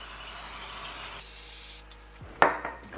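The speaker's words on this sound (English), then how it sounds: "Grab myself some non-stick spray." A can of non-stick cooking spray hisses steadily for about a second while coating a silicone muffin tin, then stops; a short clatter of the can or tin follows.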